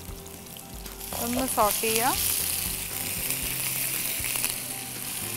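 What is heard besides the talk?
garlic and ginger frying in a pan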